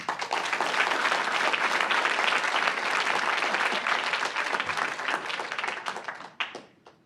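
Audience at an evening science talk applauding a speaker's introduction, dense steady clapping throughout that tapers off quickly at the end.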